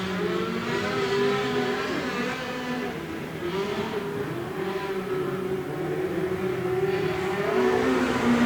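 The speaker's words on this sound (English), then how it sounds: "As he comes through 3 and 4, he's not going to quite get around Aaron North" Speedcars race around a dirt track, their engines a steady, distant droning whine that rises and falls slightly as the cars circle, with no close pass-by.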